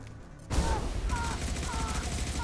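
Gunfire from a Sentinel squad's weapons during a modded Mass Effect 2 Legendary Edition combat scene on PC, a sudden burst of shots that kicks in and continues as sustained firing mixed with game sound effects.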